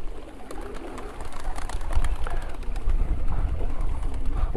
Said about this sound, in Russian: тут голуби купаются